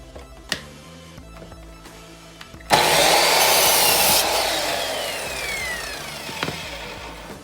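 A chop saw (miter saw) spins up and slices through a piece of trim set to a 31.6-degree angle: a loud, harsh whine-and-bite lasting about a second and a half, then a descending motor whine as the blade winds down.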